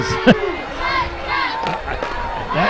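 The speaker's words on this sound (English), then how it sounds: "they're booing here on the side of the NU fans" A football crowd boos a helmet-to-helmet hit in a 2009 NU Miners versus Franklin Wildcats game: a steady, rumbling stadium roar with one sharp thump near the start, and voices talking over it.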